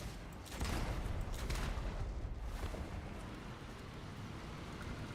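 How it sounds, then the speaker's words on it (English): Heavy cannon fire from the Deimos rover in the video game Starfield, a loud sustained booming barrage with rumbling, crackling blasts lasting several seconds, with no talk over it. "Instead, this has a fucking cannon."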